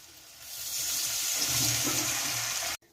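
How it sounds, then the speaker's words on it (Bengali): Water poured into spice masala frying in oil in a pan for a hilsa and eggplant curry, a steady rushing gush that builds and holds for about two seconds, then cuts off abruptly. "মশলা থেকে তেল ছেড়ে এসছে, তো আমি এবারে দিয়ে দিচ্ছি জল"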